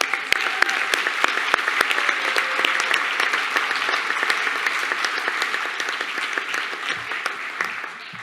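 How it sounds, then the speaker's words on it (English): An audience at a fall convocation for the Automotive Business School of Canada breaks into sustained applause, dense and loud at first with sharp individual claps, then thinning slightly toward the end. "Now that deserves a round of applause."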